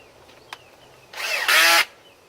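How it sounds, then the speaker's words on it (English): A Ryobi cordless drill whirs up in a short, close burst and then spins faster in a brief loud whine while its chuck is tightened on a bit, then stops. "I'm going to take my cordless drill. It's a Ryobi cordless drill."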